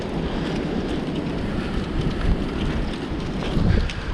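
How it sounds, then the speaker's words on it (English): Strong wind buffets a camera microphone outdoors at a riverside light-rail station ramp in New Jersey, producing a steady, loud broadband rumble with gusts swelling near the end and no talking. "It's really windy."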